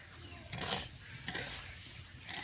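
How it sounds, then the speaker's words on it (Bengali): Rice stirred and sautéed in ghee in a pan, with soft scraping stir strokes over a faint sizzle, fairly quiet and close, in a rustic village pulao preparation. "আর এক চামচ ঘি দিয়ে দিয়েছি আরও ভালো করে আমি চালটা কষবো"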